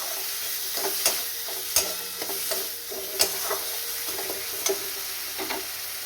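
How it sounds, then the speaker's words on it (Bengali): Spice paste for a potol and paneer dish frying in a pan, a continuous close sizzle broken by regular scraping stirs of a spoon, with no voices. "একটু মশলাটা কষা হয়ে যায়"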